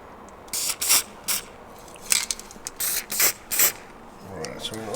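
A spray can of 2-in-1 primer, warmed before use, hisses out in several short bursts of varying length during touch-up painting on a classic 1971 Ford Bronco, close and fairly loud.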